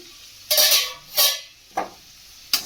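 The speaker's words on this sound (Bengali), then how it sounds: "ঢাকাটা খুলছি।" A lid lifted off a pan of chicken cooking on low heat gives a few sharp metallic clanks and scrapes, separated by short pauses, near and fairly loud with no talk.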